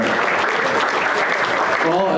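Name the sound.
applause for champions at a state fair livestock show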